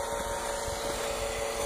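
Vacuum cleaner drawing gas from a homemade charcoal gasifier built from a propane tank, a steady close motor whine with an even airy rush and no change in pitch, no talking.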